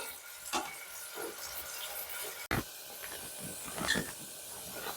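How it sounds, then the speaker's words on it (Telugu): Onions dropped into hot oil heating for a mutton semi fry, a soft hiss and sizzle with a sharp clatter midway and a few light stirring scrapes, close but quiet. "ఆయిల్ వేడైంది కదండి, ఆనియన్స్ వేసుకుందాం."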